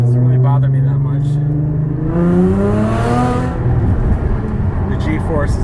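A 2013 Audi S4 with an APR dual pulley upgrade, engine knocking slightly, drones and revs loudly from inside the car, pitch climbing and shifting through gears, with a voice talking over it.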